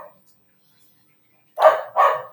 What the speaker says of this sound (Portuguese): O cachorro ficou aqui o dia inteiro do vizinho.